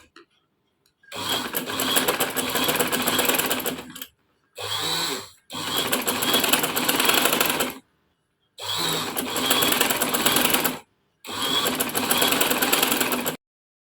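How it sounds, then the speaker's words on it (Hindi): An electric sewing machine stitches elastic onto dress sleeves with a long stitch, running in four loud, close bursts of rapid whirring, each several seconds long and separated by brief pauses. "और बड़े बखिए से हम ये इलास्टिक लगाएंगे, छोटा बखिया नहीं रखेंगे, वरना ये इलास्टिक आपकी नहीं सही से लगेगी। दोनों स्लीव्स की हम एक साथ ही लगा रहे हैं।"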